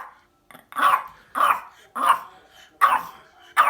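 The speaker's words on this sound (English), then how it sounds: "Don't bark at me!" A pet dog at home barks loudly and close by, five or six sharp barks at a steady pace about every half second, with a slight growl at the start.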